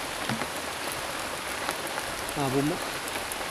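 Light rain patters steadily on surfaces close by, a gentle continuous hiss of drops, with a brief tonal sound near the middle standing out over the rain.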